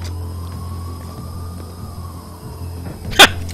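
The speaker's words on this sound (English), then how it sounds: "Dogs!" Low engine hum with faint background noise in the video game Splinter Cell Blacklist, then a single sharp dog bark near the end, close and brief.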